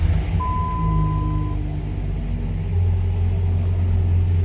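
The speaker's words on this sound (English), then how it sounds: "They're actually nice sounding truck, even at idle" A 2004 Dodge Ram SRT-10 pickup idles with a deep, steady rumble, close and moderately loud, swelling slightly toward the end, with no voices.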